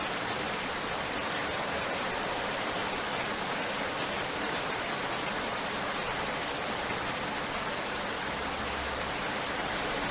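Heavy rain in the video game Rainswept, a dense, loud, unbroken wash of hissing downpour filling the whole stretch with no pauses or speech.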